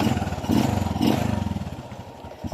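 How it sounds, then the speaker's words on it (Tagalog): A Honda Wave 125 motorcycle engine idles close by, a rapid throbbing putter that swells twice in quick revs and then settles back to a steady idle. "pandarin natin guys para makinig nyo na, mapakinggan nyo na ang tunog ng kanyang makina"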